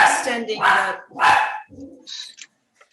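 A dog barks a few times indoors during a city Culture, Parks and Recreation meeting, sharp close yelps that break up a person speaking, then fade to quiet.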